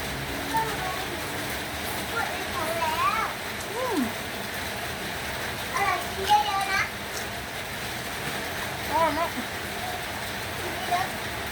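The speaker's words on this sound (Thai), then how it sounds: "ฝนก็ตกนะทุกคน จะได้ยินเสียงฝนหน่อยนะ" Steady rain hisses throughout during a thunderstorm, with children's voices chattering and calling over it.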